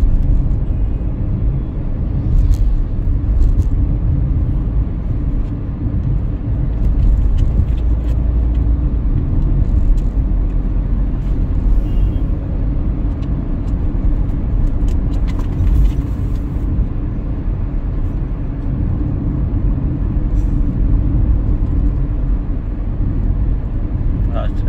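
Road traffic heard from inside a vehicle driving from New Delhi to Ghaziabad, a continuous loud low rumble of engine and tyres with occasional passing whooshes, while someone talks over it.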